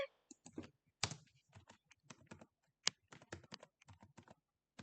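Keystrokes tap on a computer keyboard, including a Ctrl+S save, in quiet, irregular clusters of crisp clicks with short pauses between bursts.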